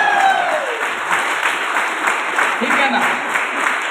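An audience at a training session claps in sustained, dense applause that carries steadily throughout, while someone speaks briefly over it.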